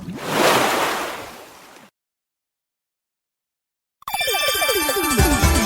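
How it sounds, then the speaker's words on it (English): A burst of water splashes and washes loudly for about two seconds, then silence, followed by a separate bright jingling, tinkling sound effect. "Go ahead, splash me."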